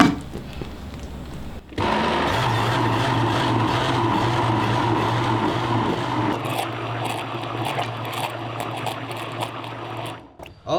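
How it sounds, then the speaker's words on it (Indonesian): An electric blender whirs steadily as it blends an iced drink made with water and sweetened condensed milk, a loud close motor drone with churning liquid that runs for about eight seconds before stopping. "blender"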